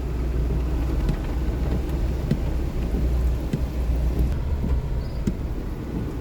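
Steady rain pours down, a dense continuous hiss with low rumbling wind underneath, constant loudness throughout and no voices.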